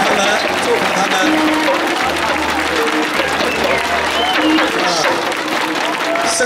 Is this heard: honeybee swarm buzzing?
no